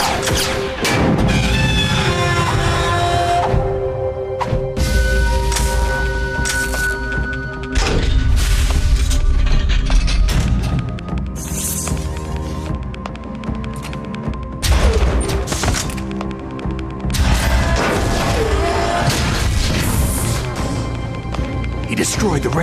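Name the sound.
radome being destroyed, explosions, Metal Gear Solid video game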